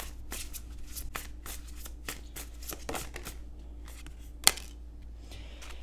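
Oracle cards being shuffled by hand, with a quick run of riffling card flicks, close and soft, and one sharper snap near the end.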